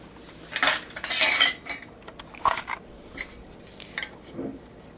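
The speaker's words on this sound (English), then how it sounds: "So now we're going to start putting on the lids." Metal lids and covers being set onto hot glass jars of freshly made mint jelly: bright clinks and scraping rattles of metal on glass in clustered bursts, close by, followed by a few lighter taps, no talking.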